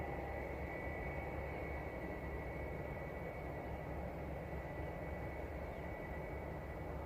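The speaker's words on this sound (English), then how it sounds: "I wanted to get eyes on my friends at Jetstar taxiing away there in the mist" A Jetstar airliner taxis at Christchurch Airport in misty weather, giving a steady, continuous engine drone with a faint high whine that stays even and fairly distant throughout.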